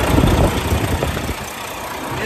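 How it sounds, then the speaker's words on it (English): A 2013 Volvo VNL truck's diesel engine idles with a steady low rumble and faint vibration, heard close and alone for a couple of seconds. "Engine sounds good."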